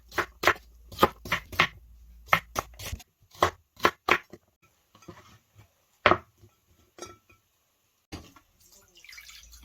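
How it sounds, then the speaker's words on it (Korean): Celery stalks sliced diagonally with a knife on a board, giving a fast run of crisp, sharp chops up close, then a few scattered cuts and quieter handling noises. "어슷어슷하게 썰어줍니다."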